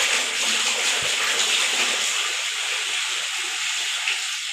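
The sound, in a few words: water being poured into a cooking pot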